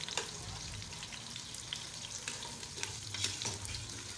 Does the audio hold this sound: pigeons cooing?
no